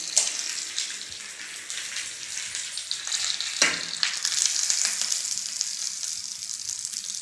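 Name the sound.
hot tempering of urad dal and curry leaves poured into chutney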